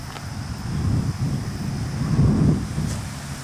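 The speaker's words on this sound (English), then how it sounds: "Oh, the wind has picked up." Wind gusting across open ground on a roughly 100-acre country property, a steady low rumble and buffeting that swells toward the middle, with no talking.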